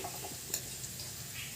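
Shredded potatoes for crispy fried jhuri aloo are stirred in a pan, giving a soft steady sizzle with a single quick scrape or clink of the spatula, quiet and close.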